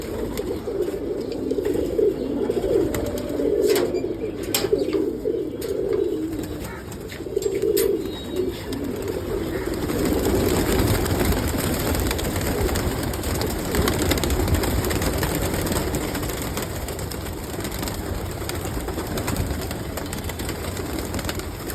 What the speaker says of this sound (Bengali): এই কবুতরগুলো খাচ্ছে